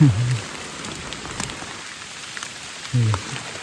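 Steady rain patters on a surface throughout, with a couple of brief low thumps near the start and end.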